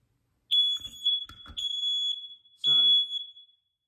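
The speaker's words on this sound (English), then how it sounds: "So we know that the smoke alarm, the smoke detector actually works now." A smoke detector sounds during a test after its lithium battery is put back in, giving several piercing high-pitched beeps, close and loud, with short gaps between them and brief handling noises.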